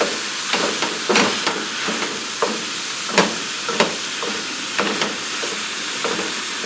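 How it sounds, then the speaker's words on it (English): Meat sizzling loudly in a hot frying pan, a constant hiss broken by scraping stirs and clacks of a utensil at irregular intervals. "We're almost done browning up the meat."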